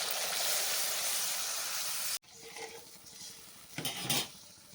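Loud hissing sizzle of a frying spice paste for a pointed gourd dhoka dalna that abruptly drops as water is poured in, leaving a softer bubbling simmer with a few stirring scrapes, close and alone.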